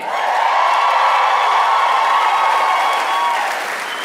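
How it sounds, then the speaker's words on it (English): A stand-up comedy audience at the Ryman Auditorium applauds and cheers in a loud, sustained wash of clapping that swells and holds, then eases slightly toward the end. "thank you for cheering for that part"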